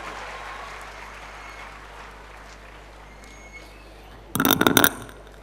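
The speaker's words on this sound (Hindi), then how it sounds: "ज़ोरदार ताली बजा करके आप इनका रिस्पेक्ट करेंगे" Children at a school campus event clap loudly in a short, dense burst of applause that starts abruptly after a quiet, hushed room and fades within about a second.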